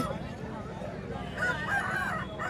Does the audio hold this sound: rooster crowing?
yes